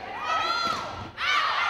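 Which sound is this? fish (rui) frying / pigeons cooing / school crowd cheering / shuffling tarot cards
school crowd cheering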